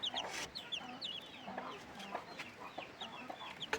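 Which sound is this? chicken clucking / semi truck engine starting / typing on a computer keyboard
chicken clucking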